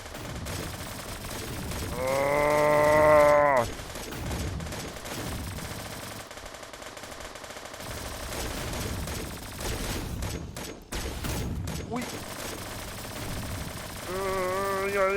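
Rapid automatic gunfire cuts down zombies in the Roblox survival game Undead Mayhem, with sustained bursts of rattling shots near and loud, broken by brief pauses and warbling game effects.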